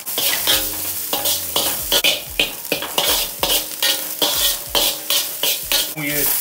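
Chicken and vegetables stir-frying in a hot pan for desi-style chicken fried rice, with a loud continuous sizzle broken by repeated rhythmic scraping and tossing strokes close by.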